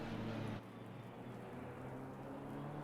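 Steady rain hiss on the Spa circuit in a sim racing esports qualifier, heard from a Mustang race car, with a low engine drone running underneath throughout and no talk.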